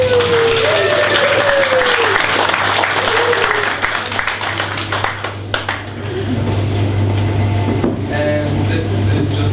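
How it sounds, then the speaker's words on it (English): An audience at a writers' forum book launch gives a round of applause, many hands clapping densely at first, then thinning and fading toward the end over a steady low hum, with some talk emerging. "Please give a big round of applause."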